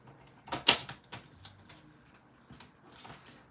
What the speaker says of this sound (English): if I just cut this into 3-inch lengths